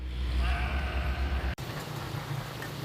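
Goats being carried for Eid al-Adha in Kudus, Central Java, bleat repeatedly in wavering cries over steady background noise, before an abrupt cut to a quieter, flatter ambience.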